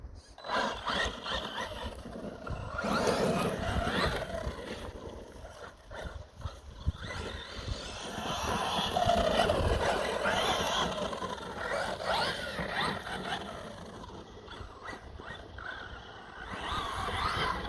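A Maverick Quantum+ RC car drives over gravel and grass, its motor whine mixing with crunching, scraping tyre noise that rises and falls across the run, moderately close and with no talking.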